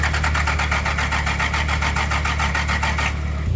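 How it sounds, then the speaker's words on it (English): A Toyota Supra engine cranks over on the starter, giving a steady, rapid rhythmic chugging that runs loud and close for about three seconds before cutting off, with no voices. "it's cranking"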